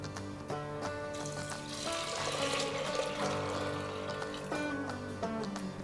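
Hot water poured into washed chana dal in a kitchen, a steady splashing pour running several seconds over quiet background music.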